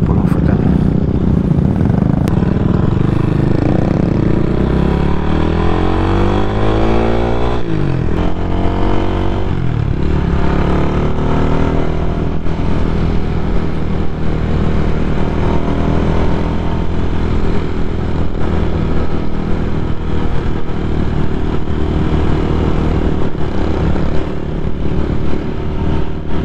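A CCM Flat Tracker Classic motorcycle is ridden close up, its engine loud and steady throughout, rising and falling in pitch as it accelerates and shifts gears.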